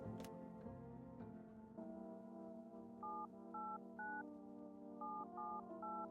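Telephone keypad tones sound in a horror video game, a series of short, clean beeps dialed one after another over a quiet, humming musical backdrop.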